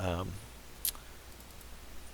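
A single sharp mouse click while working in Chitubox 3D printing software, heard just after a short burst of voice and then alone against faint room hiss.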